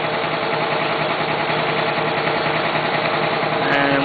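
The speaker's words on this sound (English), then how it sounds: "Typical compressor, it's noisy." A noisy air compressor at the back of a workshop runs steadily, a loud continuous mechanical drone with engine-like throb, heard alone throughout.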